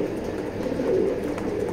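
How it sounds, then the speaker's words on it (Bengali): A male racing pigeon coos softly in a steady, low murmur, with a faint rumbling train-like background running through the recording and no talking. "অসাধারণ একটা কবুতর।"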